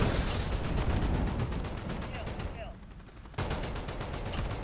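Rapid chopper gunner fire in Call of Duty: Modern Warfare rattles in dense, continuous bursts, pausing briefly before resuming, loud and unbroken with a player's voice faintly underneath.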